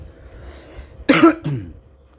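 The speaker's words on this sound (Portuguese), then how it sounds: "tô tossindo bastante" One harsh cough bursts out close to the mic, then a short throaty follow-up, in an otherwise quiet room.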